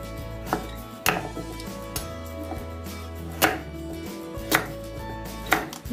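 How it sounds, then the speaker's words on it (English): A knife chops butternut squash into cubes on a cutting board, about six firm, evenly spaced thuds over a low background hum, close and alone with no speech. "Now we want to slice it into small cubes, not very small, just slice it into cubes"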